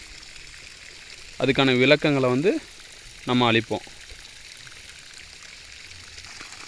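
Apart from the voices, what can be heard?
irrigation water flowing in a coconut farm channel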